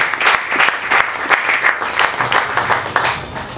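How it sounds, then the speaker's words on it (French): An audience applauding at a health and nutrition press conference, a lively burst of many hands clapping with uneven bright claps, close and full, running throughout. "Nous pouvons acclamer pour la circonstance."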